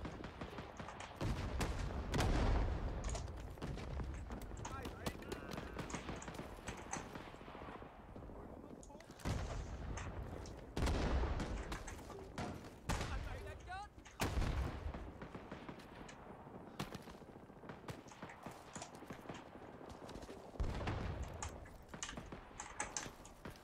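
Rifle fire in a video game, from a gun with heavier recoil than an M16: repeated loud bursts and volleys of shots spread over a long stretch, mixed with busy keyboard clicking and occasional talk.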